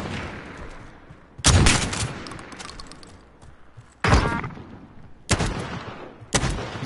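Loud shotgun blasts in a Modern Warfare match, four heavy booming shots at irregular intervals, each trailing into a decaying rumble.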